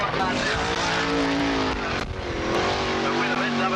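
A sprint car, number 38, roars through turns on a dirt track at a 1985 race, its engine loud and wavering in pitch beneath a track announcer's voice.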